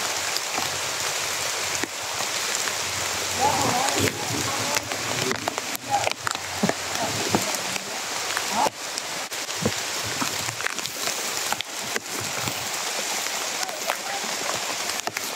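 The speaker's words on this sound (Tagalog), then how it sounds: "umuulan pa naman" Rain falls steadily on surfaces outside a house, a continuous pattering hiss broken by scattered louder drips and splashes, fairly near and even in level throughout.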